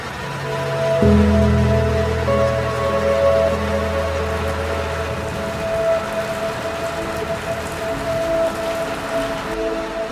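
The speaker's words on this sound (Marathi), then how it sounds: "तर वळीव पावसाने मला वाटेतच पकडलं" Heavy pre-monsoon rain falls steadily near Gaganbavada, Kolhapur, as a dense continuous hiss for about ten seconds. A low steady hum runs underneath.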